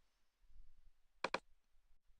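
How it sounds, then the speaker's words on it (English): Two quick, crisp mouse clicks close together on a save button, near and clear against a quiet background. "And just click save."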